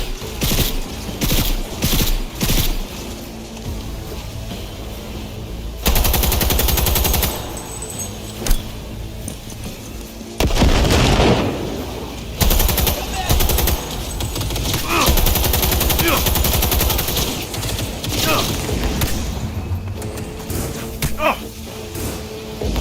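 Rapid automatic gunfire and bursts of shooting in the Cyberpunk 2077 video game, loud and sustained with repeated volleys, mixed with game noise and voices shouting over it.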